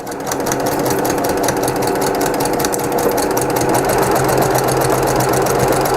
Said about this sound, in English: I'm going to continue sewing, following the 1/4 inch line on my machine bed.